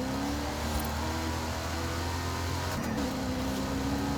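A Saleen F150 truck in Forza Horizon 5 runs with a steady engine drone and tonal hum, moderately loud and continuous, shifting pitch briefly near the end.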